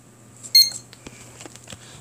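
A miniature elevator alarm panel's piezo annunciator gives a short, shrill beep at close range, followed by faint clicks and a low steady hum.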